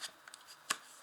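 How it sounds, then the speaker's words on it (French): Tarot cards turned over one by one on a table, a few faint papery flicks and one sharper snap, close and brief. "on va retourner chaque carte"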